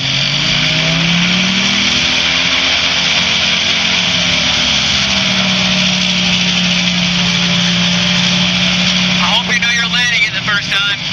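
A small propeller airplane engine idles steadily and loudly before takeoff, a constant drone with a slowly shifting tone, and a voice comes in near the end.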